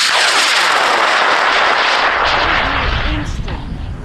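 A J1850 sugar-motor high-power rocket lifts off at an outdoor launch in Argonia, Kansas, a loud sustained roaring rush that fades slightly toward the end, with spectators' voices faintly underneath.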